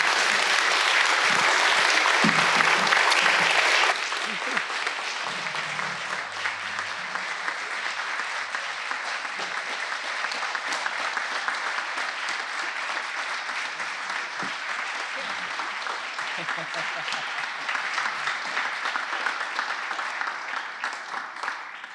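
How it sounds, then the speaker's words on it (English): Audience applause at a Chesapeake Executive Council meeting: a loud, dense burst of clapping for the first few seconds, then steady, slightly softer sustained applause from the whole room, with no voices over it. "That round of applause was definitely well-deserved."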